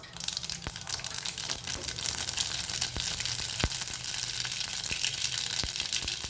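Mustard seeds sputter in hot coconut oil in a Kerala kitchen while cabbage thoran is made, giving a close steady sizzle with scattered sharp pops across several seconds and no talk.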